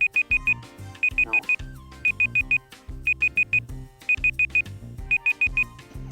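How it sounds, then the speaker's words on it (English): A kitchen timer beeps in quick bursts of four high, electronic tones, the pattern repeating about once a second over steady background music and game sounds. "It was the stupid timer that's beeping at me."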